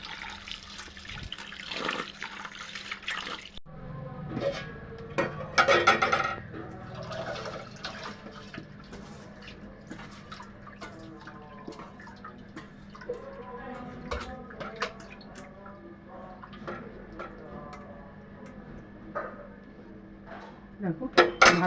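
Rice being washed under running kitchen tap water: a continuous splashing stream with clinks of grains and a pot, scattered sharp knocks, and a voice talking intermittently over it.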